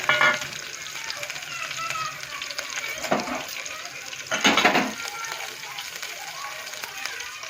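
Hot oil sizzles and crackles steadily close by, with two louder bursts of spitting as spices, curry leaves and green chillies hit the pan.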